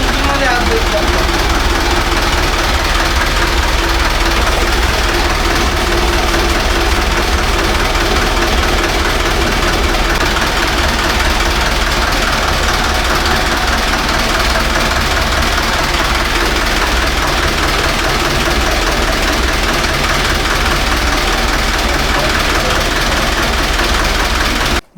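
A Mumbai fishing boat's engine runs steadily at close range, a loud continuous knocking drone with no pauses, while a voice talks over it.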